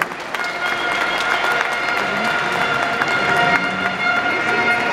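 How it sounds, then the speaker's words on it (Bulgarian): An audience applauds official guests at an evening motocross freestyle Grand Prix in Bulgaria. The clapping is broad and sustained, with a busy crowd wash underneath and distant noise throughout. "А сега моля още аплодисменти за нашите официални гости тази вечер."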